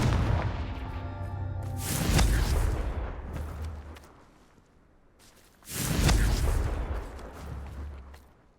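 Confringo fire spell blasts in the Hogwarts Legacy video game, two booming explosive bursts with whooshing tails a few seconds apart, moderately loud over a low background hum.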